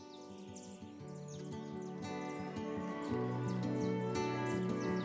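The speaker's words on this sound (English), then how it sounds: "birds waking up the camp" Birds chirp and call in the morning at a lakeside campsite, with bright, repeated tweets close by over a steady background rumble.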